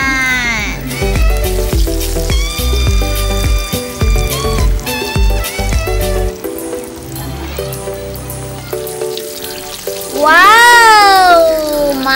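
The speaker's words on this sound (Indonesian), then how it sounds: "ayam goreng KFC rasa strawberry kita goreng" Strawberry-flavored KFC-style fried chicken being fried in hot oil, with a steady sizzle and bubbling under loud electronic background music, the music dropping back partway through.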